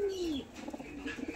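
A domestic pigeon, likely a Madras breed among mixed fancy pigeons kept for sale, gives a sliding coo followed by a run of soft, pulsing coos close by, with no talking.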